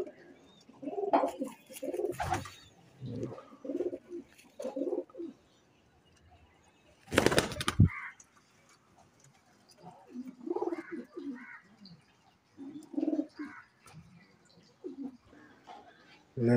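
Pigeons of the Teddy Golden breed coo in soft, repeated bursts at close range, with a brief loud broadband burst around the middle and a few quieter calls trailing after.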